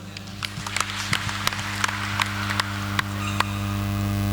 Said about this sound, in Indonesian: Tepuk tangan buat para narasumber.